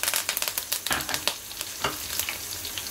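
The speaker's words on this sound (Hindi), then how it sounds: "इनको चंद सेकंड के लिए हम इसके अंदर फ्राई कर लेंगे" Garlic, dried round red chilies, curry leaves and cumin sizzling in hot oil for a tadka, a steady loud crackle with quick popping spurts and occasional stirring, close up with no talking.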